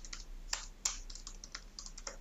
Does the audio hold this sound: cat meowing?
no